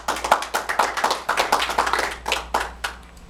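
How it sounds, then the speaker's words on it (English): A small audience at a Toastmasters meeting claps hands to welcome a member to the front, about a dozen distinct, fairly even claps close by, with no talking. "Let's give him a hand clap."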